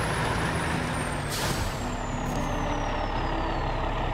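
A 6x6 truck in the video game SnowRunner rumbles steadily while its air brakes let out two sharp hissing bursts a second apart, with a thin tone sliding down behind.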